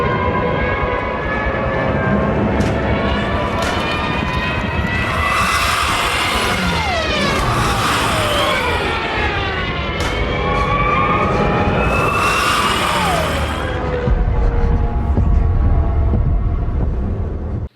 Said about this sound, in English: The most distinctive feature of the Stuka was its distinctive siren, which emitted a high-pitched wail as the aircraft descended on its target